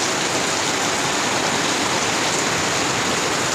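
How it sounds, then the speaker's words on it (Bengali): Heavy rain pours steadily at night around a rural home, a dense, loud, continuous wash of drops with no pauses or voices. "প্রচণ্ড বৃষ্টি হচ্ছে, প্রচণ্ড বৃষ্টি।"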